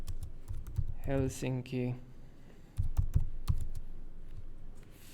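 Keys on a computer keyboard tap in short bursts during a geographic search lecture, several quick clicks before and after someone speaks, fairly close and moderately loud.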